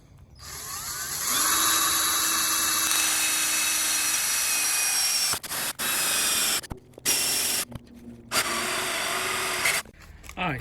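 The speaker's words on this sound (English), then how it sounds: "I'm using a long drill bit because I want to go all the way through" A power drill with a long bit bores all the way through material during a backup power installation on a converted bus. The motor whines steadily, drops out a few times and restarts, with no voices.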